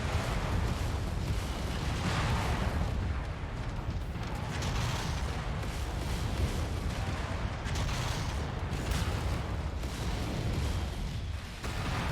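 Incoming missiles exploding in MechWarrior 5: Mercenaries, a dense continuous roar of blasts and rumbling impacts, loud and sustained throughout with little pause.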